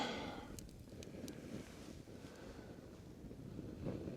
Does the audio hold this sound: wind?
yes